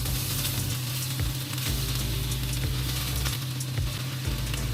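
Onions and meat frying in a very hot pan, a loud, continuous close sizzle with periodic stirring bumps, no talking.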